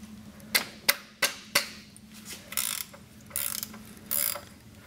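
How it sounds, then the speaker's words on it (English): Wrench ratcheting on a car's oil drain plug as it is loosened counterclockwise for an oil change: four sharp, close clicks, then a few softer scraping, rasping bursts, with no talk. "Now that the wrench is on the plug, you're just going to move it counterclockwise to loosen up the plug and allow the oil to drain out."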